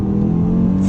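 Audi RS3 Sportback 2018 five-cylinder engine pulling hard inside a tunnel, a loud, deep, throbbing growl heard from inside the car, steady and close for a brief moment.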